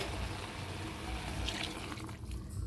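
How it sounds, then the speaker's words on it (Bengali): Water pours steadily from a tap into a cooking pot holding onion, ginger, green chilli and cumin for a fish curry, a continuous close splashing rush with no talk. "এবার একটু জল দিয়ে দিই"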